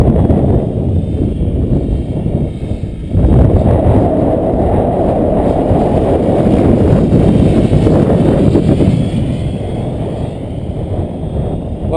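Strong wind roars loudly and continuously against the microphone as an RC helicopter flies outdoors, a constant heavy rumble with a gust swelling about a quarter of the way in and no voices.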